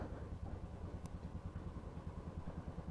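A motorcycle engine idles after a cold start with a soft, steady low pulsing putter and a brief faint click in the middle.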